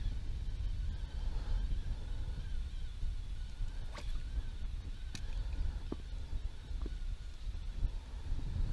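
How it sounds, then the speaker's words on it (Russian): Wind gusting over the Moksha river during evening fishing, a steady low rumble and buffeting on the microphone throughout, with a few faint brief clicks and no talk. "Ветер не дает делать точные забросы."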